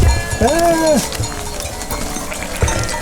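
A large flock of sheep wearing bells crowds around hikers on a mountain trail, with a close loud bleat, clanking bells and people talking nearby.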